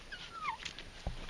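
A small puppy whimpering in a few short high whines, faint and close, followed by a soft thump, no speech.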